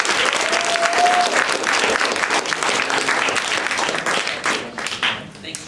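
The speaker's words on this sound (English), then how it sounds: "let's give him a big round of applause" Audience clapping steadily in a meeting room, a dense sustained round of applause that thins out toward the end, with a brief voice passing underneath.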